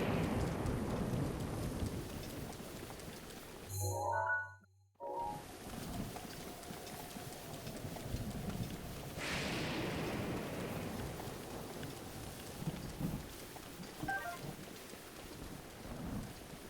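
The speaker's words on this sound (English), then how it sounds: "But it is a real bummer when it rains." Steady rain pours in the open world of Zelda: Breath of the Wild, a continuous hiss with a brief muffled dip partway through before the downpour resumes at even strength.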